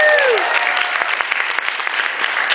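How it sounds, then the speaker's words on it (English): Loud audience applause for Jen at the Hurricane Who 2013 convention panel with Colin Baker, dense crowd clapping that fills the whole stretch, with a short tonal whistle-like sweep at the very start. "Give her a round of applause."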